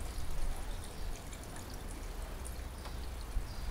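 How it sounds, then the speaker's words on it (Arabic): Water poured into a car engine's coolant reservoir, a quiet, steady pour with a low rumble beneath and a small splash near the end, no talking. "صب الماء، هذه ناقصة مثلا على الأخر"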